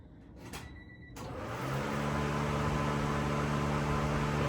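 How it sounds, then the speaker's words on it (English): A fuel or water pump in a Honda Civic EG hatchback mid engine swap whirs up after a brief click, settling into a steady, loud mechanical hum with a constant low drone. "see if the pump turns over"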